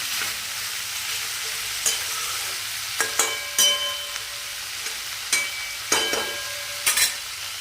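Chopped onion and garlic fry in oil with a steady close sizzle, broken by intermittent scraping stirs and light clinks of a spoon against the pan.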